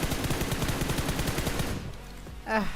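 Rapid automatic gunfire from the BGMI mobile battle royale game, a dense run of loud, evenly spaced shots that stops partway through, followed by a brief rising electronic chirp near the end.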